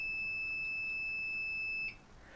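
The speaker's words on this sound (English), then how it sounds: "I'm going to now push and hold on the 0 button until the chair beeps at me." A DCI Edge Series 5 dental chair gives a single steady electronic beep lasting nearly two seconds after its 0 button is held, then stops abruptly, leaving quiet room tone.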